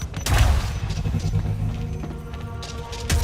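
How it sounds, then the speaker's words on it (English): Grenade explosion in the video game Quantum Break, a loud booming blast followed by sustained rumbling battle noise with a second hit near the end. "Grenade."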